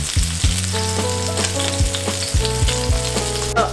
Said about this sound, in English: by the time it's done sizzling in this pan, it's gonna have a very nice crunchy skin